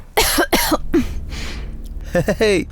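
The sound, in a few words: cough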